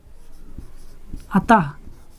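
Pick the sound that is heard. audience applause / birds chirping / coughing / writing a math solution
writing a math solution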